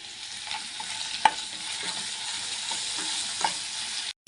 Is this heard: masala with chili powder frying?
yes